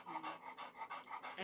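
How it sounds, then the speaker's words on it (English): A dog pants in quick, regular huffs, about seven rapid breaths close to the listener, alone and fairly quiet; the dog is old, with arthritis and bad knees, and on Benadryl and gabapentin. "he's panting because he's on Benadryl and gabapentin"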